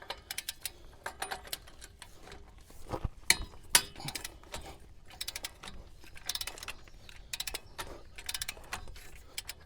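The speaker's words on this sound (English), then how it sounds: "we need to get the nut off the bottom, which I'm using a 24mm socket to do" A hand ratchet with a 24mm socket works loose the ball joint nut on a Chevrolet 2500HD, making a series of quiet, irregular clicking bursts with a few sharper metallic clacks, close up and without talking.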